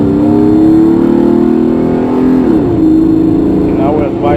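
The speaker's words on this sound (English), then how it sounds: "Okay, now we're at wide open throttle." Nissan pickup truck engine held at wide open throttle, a loud steady drone that shifts pitch midway, constant and close throughout.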